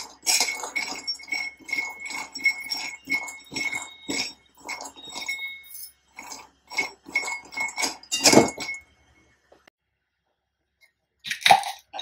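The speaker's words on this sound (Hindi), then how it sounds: "अब गैस में कढ़ाई में हम लोग मूंगफली फ्राई रोस्ट करके देंगे" Peanuts dry-roasting in a kadhai on a gas stove, stirred with a metal utensil: close rattles, clinks and scrapes repeat in a steady rhythm, then stop for a near-silent stretch before one last brief clatter.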